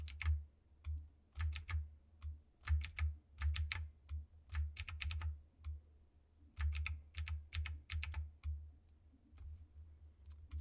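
Quiet, close clicks of typing on a computer keyboard come in irregular bursts of keystrokes separated by brief pauses, with a soft low hum underneath.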